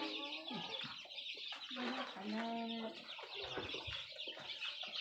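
Chickens on a Thai chicken farm with newly arrived chicks, clucking and squawking close by in overlapping irregular calls, with a faint voice now and then in the background.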